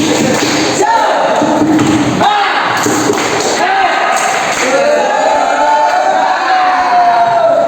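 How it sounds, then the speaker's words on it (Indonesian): A classroom group performs a rhythmic spirit clap during a microteaching lesson: a few loud, spaced bursts of clapping mixed with chanting and shouting voices, close and energetic. "Oke, tepuk semangat."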